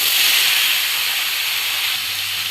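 Dried red chili and panch phoron spice mix sizzle in hot oil in a home kitchen, giving a loud, close, steady hiss that fades slightly over the few seconds.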